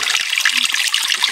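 A mountaintop spring in Surigao del Norte trickles steadily nearby, a continuous bright splashing dribble of water running alone for a moment.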